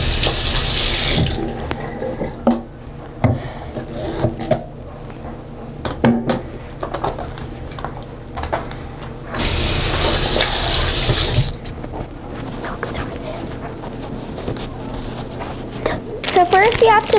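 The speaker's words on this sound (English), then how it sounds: "Now, let's wash our hands." Hands are washed under a running kitchen tap before baking cupcakes: a steady loud gush of water with bursts of splashing, occasional clinks of dishes and a drawer, and a voice speaking over it.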